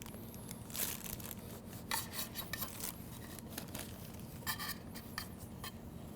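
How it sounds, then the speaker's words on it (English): Knife cutting phyllo dough down to pan size, faint rubbing and scratchy scraping strokes with a few brief crisp ticks, close and quiet over a low steady hum. "I'm going to go ahead and cut my phyllo down to that size"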